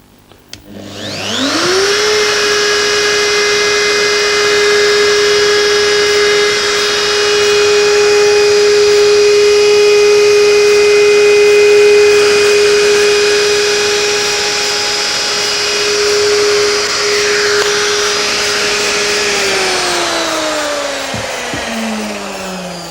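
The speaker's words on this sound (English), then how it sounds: "starting with laminate trimming. I'm using a roller bearing cutter of suitable size." A router fitted with a roller bearing cutter trimming laminate: a high-pitched motor whine spins up, holds a loud, steady tone with a cutting rasp for about eighteen seconds, then winds down.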